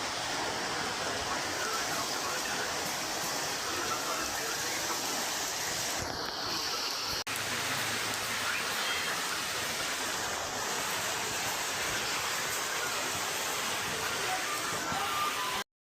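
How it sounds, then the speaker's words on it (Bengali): Heavy rain pours down on a village home, with water running off the roof, making a dense, loud and unbroken hiss throughout. "এই যে এখন অনেক বৃষ্টি পড়তেছে"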